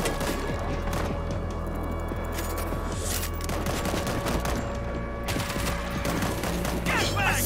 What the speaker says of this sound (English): Mortars, ready to fire.